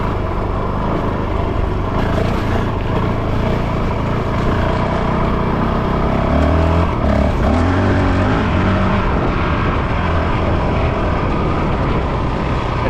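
A Honda CRF 450 RL dirt bike is ridden off-road, its engine roaring loud and continuous with rising and falling throttle and wind buffeting throughout.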